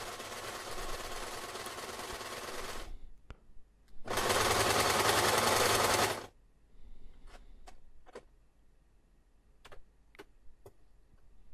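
A sturdy metal sewing machine runs through four layers of canvas and three of fleece for harness straps: two long, loud bursts of rapid stitching separated by a pause, then scattered mechanical clicks and ticks.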